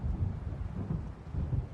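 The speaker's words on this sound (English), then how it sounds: "It seems there's a storm coming." An approaching thunderstorm in the video game Alan Wake brings a low, rolling rumble of distant thunder. It swells and fades with a soft hiss of rain, quiet and steady throughout.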